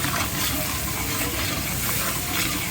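Daal mash masala frying in ghee in a pan, a steady close sizzle and hiss with faint stirring scrapes, continuous and fairly loud throughout with no talk.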